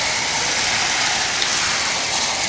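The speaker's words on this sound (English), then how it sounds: "Use that soft rain setting on the nozzle" A garden hose nozzle on its soft rain setting sprays water onto tomato plants, a steady close hiss of fine droplets pattering on leaves and soil, even and continuous with no voices.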